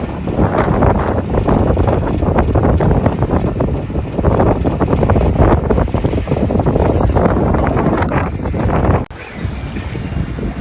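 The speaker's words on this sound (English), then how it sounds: "We had a big gust there for a second" Heavy wind roars and buffets the microphone for several seconds aboard a sailboat with the mainsail up on Kentucky Lake, with water rushing beneath, then drops off suddenly near the end.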